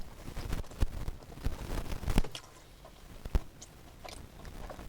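Bites and chewing on a pepperoni pizza slice with a cooked, crisp bottom and rubbery cheese: a few sharp crunchy bites up close, followed by quieter, softer chewing.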